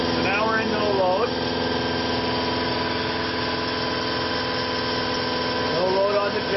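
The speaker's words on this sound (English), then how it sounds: "No load on the generator." A generator runs steadily with no load, a constant loud engine drone with an even, unchanging pitch throughout.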